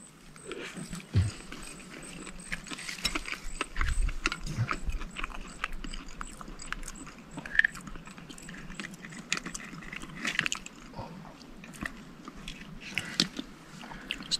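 Raw oyster with soy sauce being eaten outdoors in the Kimberley, close wet chewing and slurping with irregular bites and smacks, loud and near the mic, no talk.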